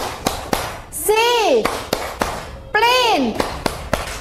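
Children clap sharp, spaced beats while chanting a word twice in rising-falling voices between the claps, a close, lively classroom rhythm game.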